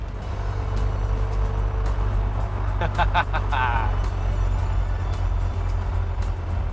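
A 1961 Alfa Romeo 2000 Spider's engine drones loud and steady from inside the moving car, with a brief cluster of chirpy tones midway and no voices.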